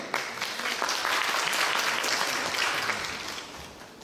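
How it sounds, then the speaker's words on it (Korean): Audience applause at a lecture on constitutional law, steady sustained clapping from a crowd lasting several seconds at moderate loudness. "뜨거운 박수 부탁드립니다"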